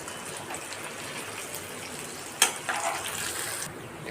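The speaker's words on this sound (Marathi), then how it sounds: "आता ह्या आपल्याला एक साईड व्यवस्थित तळून घ्यायच्या आहे" Aalu vadi fry in hot oil with a steady soft sizzle and hiss, close and fairly quiet, interrupted by one sharp crackling burst and a brief louder spatter before settling back, with no talking.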